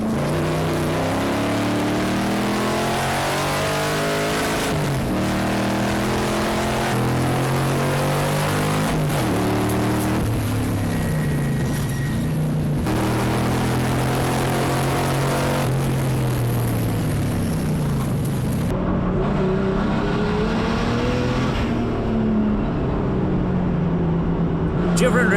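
Cobra race cars roar around the track at Dezzi Raceway in a four-hour Backdraft endurance race, engines rising and falling through gear changes as they pass close by, with a commentator talking over them.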